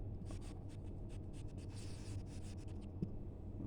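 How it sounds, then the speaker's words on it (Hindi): A pen writes a name on paper in soft, close, scratchy strokes, quick and irregular against a quiet background hum. "यहां भी नाम लिख दीजिए, मेनका"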